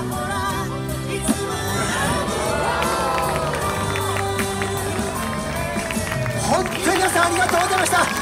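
A street-performance audience at a Yokohama street arts festival claps and cheers. Shouts and crowd babble mix with scattered clapping under a loud, busy hubbub, and voices carry through the whole stretch.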